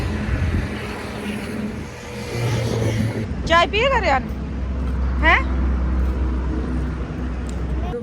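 Dense road traffic in a jam in India: a low engine rumble from idling and revving vehicles, a couple of brief horn-like toots partway through, and people talking nearby over the noise.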